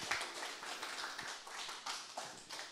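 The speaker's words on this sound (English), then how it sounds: "Everybody give a round of warm applause," A tech meetup audience claps for a speaker being introduced, a fairly faint, thin patter of hands from a modest crowd that lasts a few seconds.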